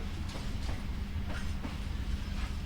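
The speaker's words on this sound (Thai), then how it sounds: "รถไฟออกขบวนแล้วนะครับ" A train in the Roblox game Edward the Man-Eating Train pulls away with a steady low rumble and faint rhythmic wheel clatter, continuous and fairly quiet, with no voices.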